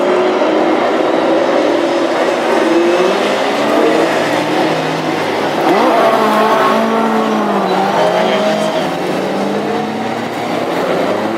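Classic hot rod race cars pull away together on a warm-up lap at Hednesford, a loud, dense roar of several engines revving and surging with some tire noise, continuing steadily throughout.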